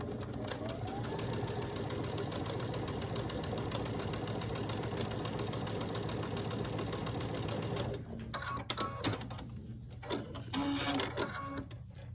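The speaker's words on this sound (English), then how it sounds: "we'll take it to the sewing machine and we'll stitch a 1/4-inch seam" Sewing machine stitching a quarter-inch quilt seam for a scrappy quilt, a rapid steady mechanical whir for about eight seconds, then stopping into fabric rustles and handling noises.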